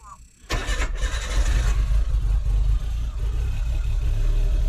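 A Suzuki Cara Autozam AZ-1 being checked for a phantom rev limiter starts with a sharp burst, then holds a steady, loud, close engine drone throughout.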